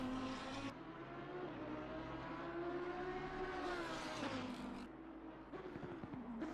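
A Lamborghini race car engine roars steadily at Bathurst in a racing sim, holding a high sustained note with slight pitch shifts as it accelerates and shifts gear, fairly quiet and without talk.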